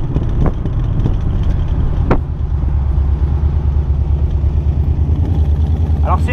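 AC Cobra Shelby 302 V8 rumbling loud and close through its side-mounted exhausts, a steady deep drone with a few sharp throttle blips, wind buffeting the microphone.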